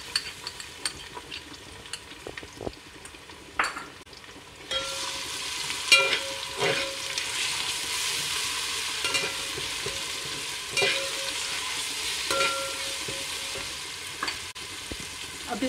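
Garlic ginger paste frying with spices in a pan, a soft sizzle that swells louder partway through as stirring continues, with scraping strokes and occasional clinks of utensil on metal, close and without talking.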